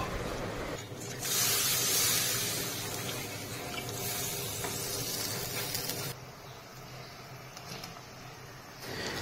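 Water poured into hot fried masala for a curry of fresh snails and small river fish sends up a loud hissing burst, then settles into a softer continuous spitting and bubbling, with no one speaking.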